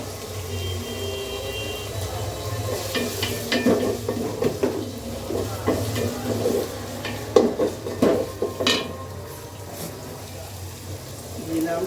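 Chopped onion and garlic paste frying in a pan for mutton curry, a steady close sizzle with scraping stirs and a few clinks of utensil on metal, with a voice talking over it.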